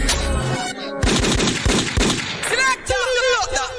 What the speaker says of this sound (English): Okay, so we got some gunfire